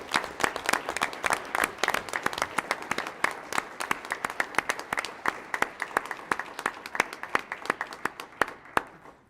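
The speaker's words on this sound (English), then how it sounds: "So a round of applause for Luke's 25 years" Sustained applause fills a city council meeting chamber, dense and lively clapping from many people for over nine seconds, thinning slightly toward the end.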